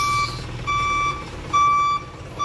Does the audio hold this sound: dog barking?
no